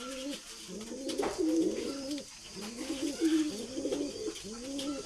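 A male White Gold pigeon coos in repeated rolling phrases, close and fairly loud, in a loft with faint background noise.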